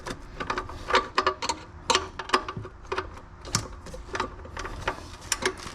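Ratcheting wrench clicking in quick irregular bursts of sharp ticks, close and fairly quiet, with no talking.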